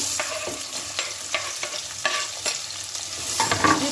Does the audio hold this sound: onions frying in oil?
yes